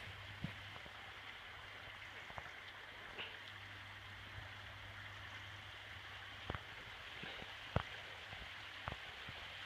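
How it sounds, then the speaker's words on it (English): A small brook runs beside a walking path on the Camino de Santiago near Sarria, giving a steady, soft rush of water with scattered brief drips and clicks over a low hum. "There's a neat little brook that was next to the path here while we're walking"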